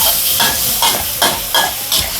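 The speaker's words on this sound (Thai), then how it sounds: "คั่วหมูสามชั้นก่อนเลยนะคะ" Pork belly sizzles and crackles steadily in a hot pan, with periodic scraping swells as it is stirred and tossed.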